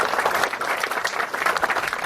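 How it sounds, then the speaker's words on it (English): Audience applause for camp alumni at an 80th anniversary celebration, a steady, dense wash of many hands clapping close by that holds evenly for the whole stretch. "let's congratulate and give a round of applause to the Aquahunga alumni for their fine work"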